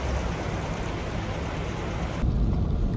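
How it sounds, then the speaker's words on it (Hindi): Heavy rain pouring steadily in Riyadh, a dense, even hiss of falling water that fills the whole clip, close and continuous with a slight swell toward the end. "ये देखिए मैं आपको दिखाती हूँ कितनी तेज़ बारिश शुरू हो गई है।"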